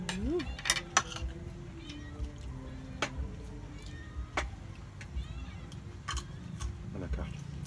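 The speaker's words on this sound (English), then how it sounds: "And a cat." A cat meows once near the start, quiet and close, during an outdoor riverside meal by the Mekong, with low chatter and clinks around it.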